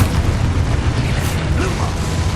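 A Confringo blasting spell bursts with a loud, close boom and rumble in Hogwarts Legacy, amid spell-casting combat noise.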